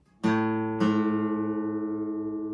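Two guitar strings plucked one after the other and left ringing together, slightly out of tune, so the sustained tones produce a slow, wavering beat as they decay; no talking.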